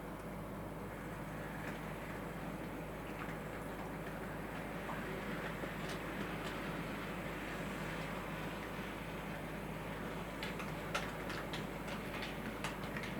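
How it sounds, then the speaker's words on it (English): A model Class 40 D396 diesel locomotive runs slowly along its track, a low steady hum with faint intermittent clicks from the wheels, quiet and continuous. "you're seeing the slow speed running of this locomotive."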